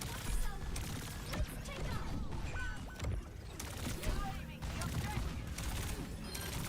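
Gunfire in a competitive Overwatch 2 match, rapid bursts and volleys of shots with impacts, fairly faint and mixed under people talking.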